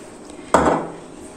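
A whisk being pulled free from dough in a mixing bowl for homemade pasta dough gives one sharp clattering knock against the bowl, followed by a short fading scrape, with no talking.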